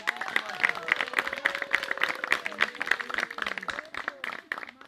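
A church congregation claps together in a fast, steady rhythm throughout, while a leader's voice carries over the clapping.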